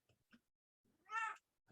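A house cat lets out one clear, drawn-out meow, close by and alone, after a few soft rustles and small sounds.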